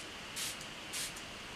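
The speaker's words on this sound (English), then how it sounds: "I'm just going to spray that on my face first" Smashbox primer water misted onto a face in two quick, soft hissing sprays about half a second apart, close and otherwise quiet.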